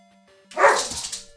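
A dog barks in a short burst of several rough yelps, fairly close and loud, with faint background hum.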